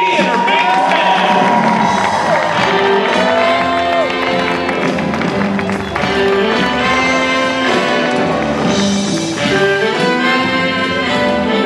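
A crowd applauds and cheers for Minnie Mouse at her Hollywood Walk of Fame star celebration, loud continuous clapping mixed with whoops and shouts while music plays underneath.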